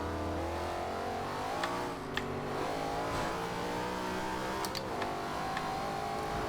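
A 2013 Ford Shelby GT500 in the Forza Horizon 2 racing game revs hard under heavy throttle, its engine note steady and loud with slight rises and dips across the few seconds, no voices over it.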